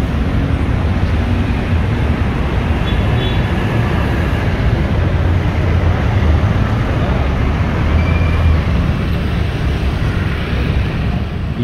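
A KIM Trans intercity bus on the Jakarta–Surabaya route, with a Laksana SR2 HD Prime body, passing on the road as a loud, continuous broadband roar mixed with wind buffeting.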